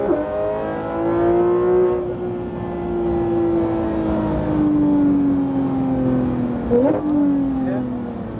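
A Porsche GT3 RS engine on the Le Mans Maison Blanche circuit, a sustained high revving whine rising and falling through the gears, heard from inside the car with a quick shift blip near the end under a speaking instructor.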